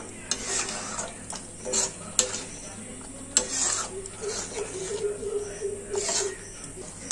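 A spoon stirring egg curry in a metal pan gives repeated close scrapes and sharp taps, with a steady low sizzle underneath and a voice speaking at times.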